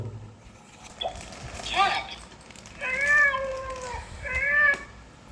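Two drawn-out electronic cat meows from a toy, a few seconds apart, after a brief muffled voice and some handling noise.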